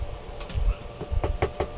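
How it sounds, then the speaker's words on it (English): Knuckles rapping on wood indoors, a handful of sharp, close knocks in an uneven rhythm, some doubled, with faint low rumbles between them and no talk. "That's me knocking on wood in case you're wondering."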